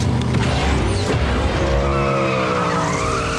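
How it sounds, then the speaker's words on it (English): A car performing a reverse nitrous burnout, tires squealing loudly and continuously over a roaring engine, with a rising, sustained screech that dominates throughout. "A reverse nitrous burnout?"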